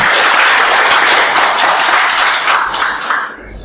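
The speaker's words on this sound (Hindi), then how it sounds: "खुद के लिए जोरदार ताली।" A training audience at a DXN distributor session breaks into loud, close applause, dense clapping from many hands that holds steady and then thins out at the end.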